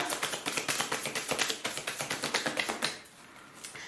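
Tarot cards being drawn and laid down one after another in a quick, even run of crisp taps and flicks, close by and alone, slowing at the end.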